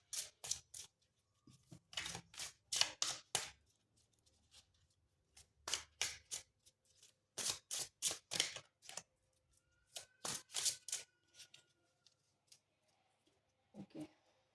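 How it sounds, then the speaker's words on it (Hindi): Tarot cards shuffled in repeated bursts of crisp, riffling clicks and flicks, each lasting a second or so with short pauses between, close and fairly quiet with no talking. "ठीक है, मैं सपोर्टिंग कार्ड्स को शफल कर लेती हूँ।"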